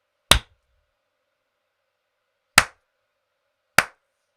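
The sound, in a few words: hand clapping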